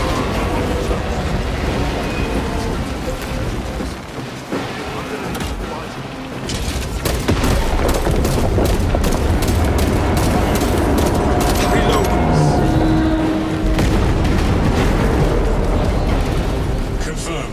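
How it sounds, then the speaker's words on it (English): Explosive charges detonating against a huge alien beast in the game Space Marine 2: a long, loud barrage of booming blasts and crackling gunfire-like bursts, with voices speaking over the chaos. "Detonate the charges now."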